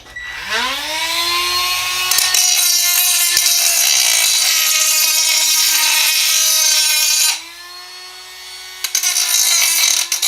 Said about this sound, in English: you got to deburr this, and I find that this Dremel stone wheel works the best